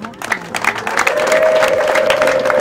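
Guests at a wedding applaud the bride, with clapping building from scattered claps into a steady loud round while a sustained high vocal tone carries over it.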